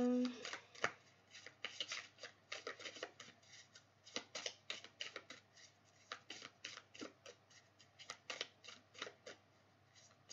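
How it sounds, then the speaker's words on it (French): Tarot cards handled and shuffled by hand, giving a long run of crisp flicking and riffling bursts in uneven rhythm, close and fairly quiet, with no speech over them. "je vais sortir maintenant les cartes"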